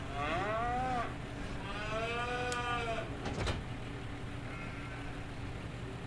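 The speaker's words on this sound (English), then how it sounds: "Oh man, those cows." Cattle on a farm moo loudly and drawn out, several overlapping calls in the first half followed by a fainter moo later, against a steady low background hum.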